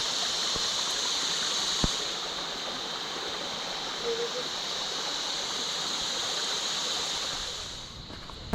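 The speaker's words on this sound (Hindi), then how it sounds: "पर यहाँ तो रास्ता ही वाटरफॉल बना हुआ था" Water pours down a steep mountain trekking path on the Rudranath trek in Uttarakhand, where the trail itself has turned into a waterfall, giving a steady, even rushing roar throughout with a couple of faint knocks.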